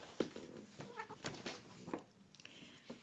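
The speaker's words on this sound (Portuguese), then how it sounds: "É só a minha gata, uma delas." Domestic cat indoors, a female, giving several short, faint meows and vocal noises in irregular bursts over quiet room tone, with no one talking.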